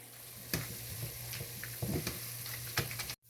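Garlic and chilli masala fries in a pan, sizzling steadily with repeated scraping stirs and a low hum beneath, cutting off abruptly at the end.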